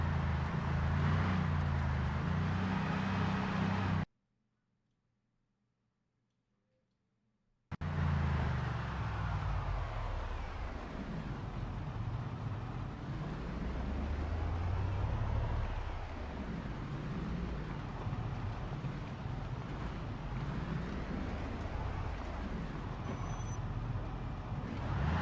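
Car engine revving loudly in the zombie survival game Project Zomboid, a sustained roaring drone that rises and falls in repeated surges, broken by a few seconds of near silence before returning at full loudness.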